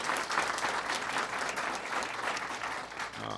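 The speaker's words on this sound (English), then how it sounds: "Please give her a big round of applause." An audience at a tele-town hall on the Affordable Care Act and seniors gives Kathleen Sebelius a dense, unbroken round of applause, loud and even from start to finish with no voices over it.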